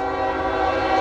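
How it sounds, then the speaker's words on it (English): A Norfolk Southern southbound coal train passing in Marion, Ohio, loud and close, with a steady rumbling drone and tonal horn-like hum throughout. "a Norfolk Southern southbound coal train?"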